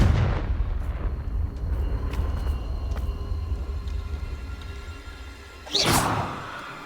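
A fiery blasting-spell explosion in a wizarding adventure game: a sudden loud whooshing burst near the end, over a steady low rumble with faint clanks and thuds earlier, no voices.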